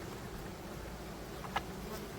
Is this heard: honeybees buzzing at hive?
yes